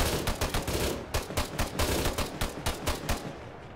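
A machine gun in ArmA 3 hammers out steady rhythmic bursts, each cluster of close, loud shots separated by brief pauses, with almost no talking over it.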